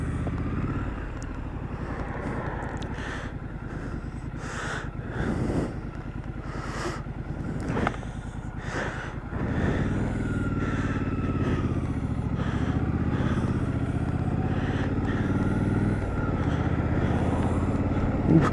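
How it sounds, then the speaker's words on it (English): A 2017 Triumph Street Scrambler motorcycle engine burbles and revs through repeated throttle bursts, with a rough, pulsing twin-cylinder note, steady and close throughout. "First thing that strikes me is the sound of this Triumph twin engine."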